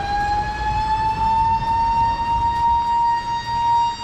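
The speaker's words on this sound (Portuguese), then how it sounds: "E tem sempre uma sirene tocando, avisando que alguma coisa vai acontecer." A siren wails steadily at a naval river base in the Pantanal, a sustained tone with a slow rising pitch and rich harmonics, loud and unbroken over low background rumble, no voices.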